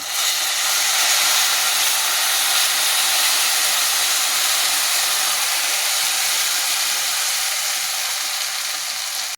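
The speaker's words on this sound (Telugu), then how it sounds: "తాలింపులో చింతపండు పులుసు వేసుకోవాలి" Tamarind juice hits a hot oil tempering for tamarind rice and sizzles: a loud, steady, close frying hiss that holds without a break for several seconds, with no talking.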